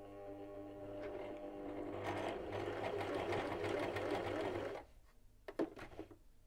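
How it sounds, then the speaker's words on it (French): A sewing machine basting fabric, a close steady motor whir with rapid needle stitching for about five seconds, then stopping, followed by a few light handling clicks. "Bâtir à la machine."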